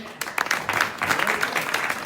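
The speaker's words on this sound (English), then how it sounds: "Big applause for them" Tech meetup audience applauds the prize draw winners with a short burst of scattered clapping that swells quickly and stays moderate, faint murmuring voices beneath.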